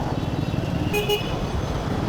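Brief car horn toots in road traffic, two short honks close together midway through, over a steady wash of engine and roadway noise.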